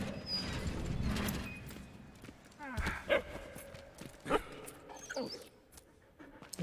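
A dog in the World War I puzzle game Valiant Hearts pants and whimpers among clip-clopping and mechanical game sounds, with a few short sharp noises and a person talking at times.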